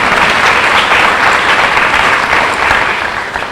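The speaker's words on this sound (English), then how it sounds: "Definitely clap." Loud audience applause at a scholarship awards ceremony, a dense continuous wash of many hands clapping that tapers slightly at the end, close and full, without speech.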